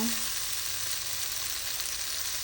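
Tomatoes and onions fry steadily in a pan over raised heat, a dense continuous sizzle close up with no talking.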